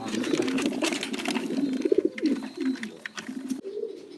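Pigeons at a pigeon farm in Feni, Bangladesh, coo close by in soft, throaty, repeated phrases, overlapping one another, with a few faint chirps in the background.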